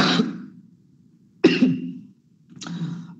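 A lecturer coughs and clears her throat in three separate bursts, close and fairly loud, with short quiet gaps between them.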